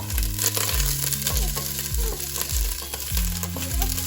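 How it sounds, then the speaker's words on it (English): Onion and garlic fry in hot oil with a dense, steady sizzle, punctuated by rhythmic low thumps of stirring roughly every half second, close and without speech. "Okay, now it's hot. We are just going to add our onion, garlic."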